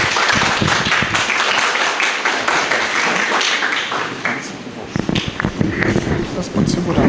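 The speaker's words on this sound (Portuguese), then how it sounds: "Palmas!" Applause from the audience greets a speaker at a photography and design talk, uneven close and distant clapping that thins midway and swells again toward the end.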